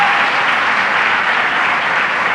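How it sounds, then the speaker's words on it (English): Audience at a gathering with county legislators and city council members clapping in loud, dense, unbroken applause, close and continuous with no talk. "Let's give a round of applause to Helen."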